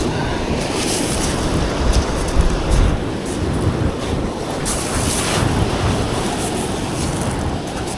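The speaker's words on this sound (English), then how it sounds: "A bit windy today" Strong wind buffets and roars steadily, with gusty rumbles and a wash of water or surf beneath it, no voices.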